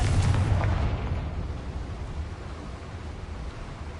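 Confringo spell in Hogwarts Legacy bursting in a loud, close explosion with a heavy low boom up front that decays into a rumbling, hissing tail over several seconds.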